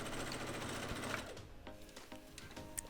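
A sewing machine runs steadily at close range, stitching a seam to the end while sewing a sweater vest, its rapid mechanical whirr holding through most of the clip before easing into softer clicks and taps.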